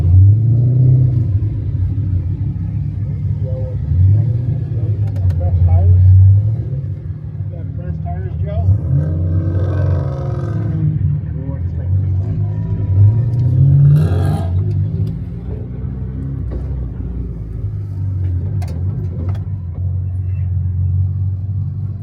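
A Mitsubishi Evo race car's engine rumbles low and steady as it pulls out onto the track, with revs swelling and easing a few times beneath ongoing talk.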